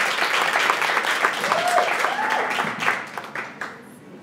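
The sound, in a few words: audience applause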